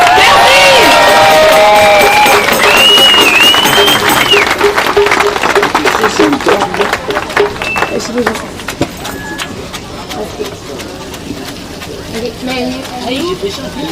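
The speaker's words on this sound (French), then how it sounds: "on peut donner une grande main d'applaudissement au cheval Knockout et à Pierre de la" Outdoor crowd at a downtown Montreal demonstration applauds and cheers for the horse Knockout and his carriage driver, loud at first and thinning over the clip, with voices and street noise mixed in.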